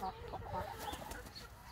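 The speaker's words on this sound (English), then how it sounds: "So we've just got some new hens" Newly rescued hens from a commercial farm clucking and murmuring close by in a continuous low, busy chatter.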